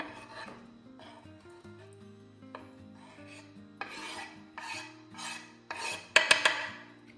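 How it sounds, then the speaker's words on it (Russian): Hard-boiled chicken eggs are rubbed over a kitchen grater in a series of short rasping strokes, soft at first and growing louder and scratchier, with faint background tones underneath. "Натираем куриные яйца на терке"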